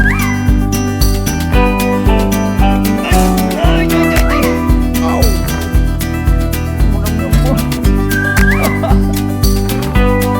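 Puppies yip and bark in short, high bursts over loud, rhythmic music that dominates the mix.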